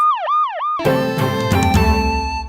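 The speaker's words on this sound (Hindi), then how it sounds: "मानस, अबे एम्बुलेंस लेकर आ। एम्बुलेंस!" An ambulance siren wails, sweeping up and down twice, then gives way to a loud, brassy burst of dramatic music.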